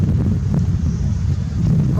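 Wind blowing across the microphone beside Vembanad lake, a steady low buffeting rumble that fills the two seconds without a break.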